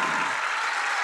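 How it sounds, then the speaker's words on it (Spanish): Audience applause, a short dense burst of clapping from a crowd, steady and fairly loud throughout. "Y vamos a dar un fuerte aplauso a mi tocayo Paco Barranquero, que viene desde España."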